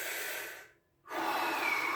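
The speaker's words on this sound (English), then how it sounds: "Fresh air, breathing deeply." Deep, slow breathing close to the microphone: one long breathy inhale, a brief pause, then another long airy breath. No other sounds accompany it.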